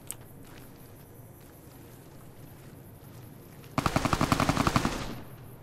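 Rapid automatic gunfire bursts from Fallout: New Vegas (Honest Hearts), a loud dense burst of about a dozen shots near the end after quieter ambience, with no talking.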